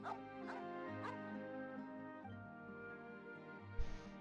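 A dog in the Genshin Impact game, in the Fontaine region, gives a few short barks and yips near the start, over steady game music.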